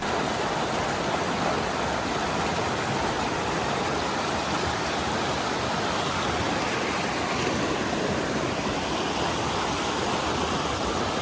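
A river rushes over rocks along the Wonderland Trail, a constant loud broadband wash of water that stays steady without pause and with no voices.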